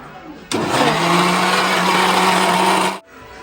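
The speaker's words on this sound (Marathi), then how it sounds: "इकडे पूर्ण कांदा खोबरा आहे वाटण चालू आहे" A mixer grinder blending onion and coconut into a paste, starting abruptly with a loud, steady electric whir that runs for about two and a half seconds and then stops.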